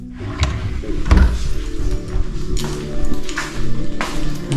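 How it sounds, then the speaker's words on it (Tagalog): A bedside drawer in a hotel room slides open with a wooden rumble and a couple of knocks, close and fairly loud, over a steady room-tone hum. "may drawer din sa tabi ng bed. Check natin if may laman."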